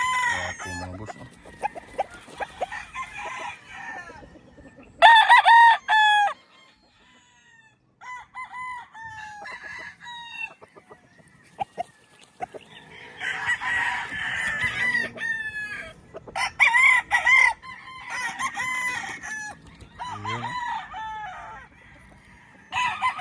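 Several roosters on a gamefowl farm crow repeatedly, some near and loud, others farther off, their calls overlapping with clucks between them.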